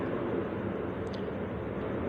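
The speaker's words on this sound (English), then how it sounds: "Over my head, another big jet," A big jet airliner passes overhead, a steady broad roaring rumble that holds evenly throughout, moderately loud and without voices.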